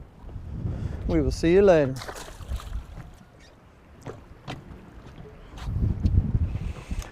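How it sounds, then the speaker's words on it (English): Strong wind gusts buffet the microphone on a lake during bass fishing from a boat, a low roaring rumble that swells at the start and again near the end, with someone speaking briefly between. "the wind has really started blowing hard"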